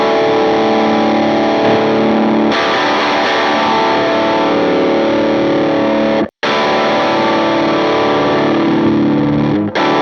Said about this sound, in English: This is the overdrive toggle switch setting.